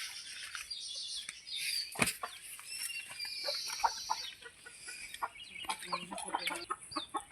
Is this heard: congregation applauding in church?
no